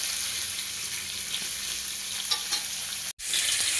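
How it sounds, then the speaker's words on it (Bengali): Pumpkin pieces coated in salt and turmeric fry in a hot pan with a continuous bright sizzle and faint stirring, close and even, with a brief dropout near the end and no speech. "সেটা একটু ফ্রাই করে নিই"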